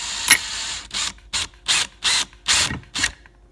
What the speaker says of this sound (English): and then I just drill.